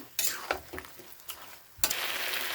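Vegetables cooked with milk are stirred in a pan, with a low sizzle running underneath. A spatula makes several scraping and clinking strokes, and a louder burst of sizzling near the end carries on to the close.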